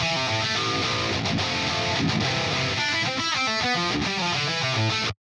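Dense, distorted electric guitar chords played continuously, thick and saturated with a heavy wall of sound, ending abruptly.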